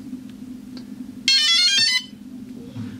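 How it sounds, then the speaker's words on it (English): A DJI Phantom Vision 2 Plus drone gives a short bright electronic tone sequence on power-up, a quick run of chirping beeps lasting under a second over a low steady hum. "Beep, beep, beep, beep."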